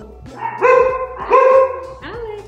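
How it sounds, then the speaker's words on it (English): Guard dogs bark and yap in short bursts, a few close, loud barks with whiny, high-pitched yips in between, over a low background hum. "Here come the guard dogs."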